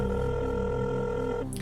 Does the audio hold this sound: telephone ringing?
yes